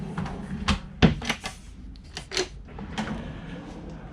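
Drawers in a Marex 360 Cabriolet cruiser's boat galley sliding open and shut, a series of close wooden thuds and clunks in irregular rhythm, some shuffling between.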